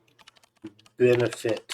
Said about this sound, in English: I have a very loud keyboard, so my keystrokes are probably somewhat annoying